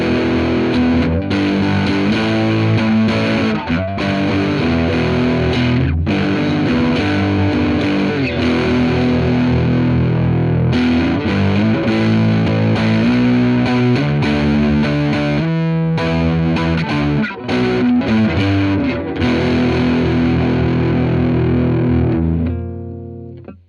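An electric guitar played through a tube amp with the gain turned up high and the volume lowered, giving a loud, continuous distorted tone with sustained chords and riffs for the whole stretch, no talking.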